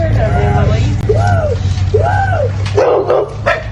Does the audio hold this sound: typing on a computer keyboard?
no